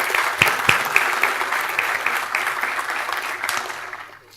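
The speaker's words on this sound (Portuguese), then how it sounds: "Uma salva de palmas para o André" An audience breaks into steady, fairly loud applause for a speaker being welcomed at a panel event, sustained clapping that fades out at the end.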